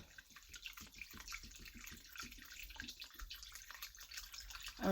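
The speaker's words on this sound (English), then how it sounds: "I'm pouring this water in this chicken" Water pours steadily into a pot holding chicken, a faint, continuous splashing and trickling stream that swells slightly toward the end, alone with no talk.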